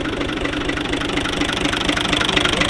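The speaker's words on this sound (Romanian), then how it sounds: "Că noi mergem cu tractorul," A farm tractor idles in rural Maramureș with a steady knocking diesel chug and a regular low pulse, close and loud with no voices.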